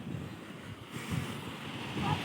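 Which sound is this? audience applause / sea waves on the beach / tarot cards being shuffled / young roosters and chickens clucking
sea waves on the beach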